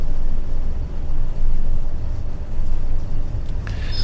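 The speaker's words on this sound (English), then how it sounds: "You obviously hear the noise from the Class 20s." Class 20 diesel locomotives in a train simulator hauling nuclear freight give a steady, loud low engine drone and rumble throughout, with a faint high squeal near the end.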